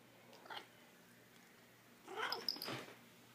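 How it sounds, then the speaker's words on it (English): A house cat at a doorway gives two faint, short vocal sounds, a brief one early and a longer, rougher cry a moment later, in a quiet room. "Here's my cat Pete."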